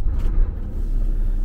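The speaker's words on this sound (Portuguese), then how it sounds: "Ligamos o caminhão." A large motorhome truck engine starting and idling, a loud low rumble rising at first and then settling into a steady deep drone close by, with no talk.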